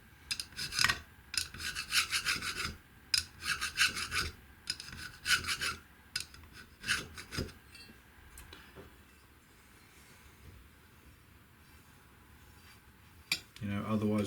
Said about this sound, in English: just get some flat bladed screwdriver and just run down the runners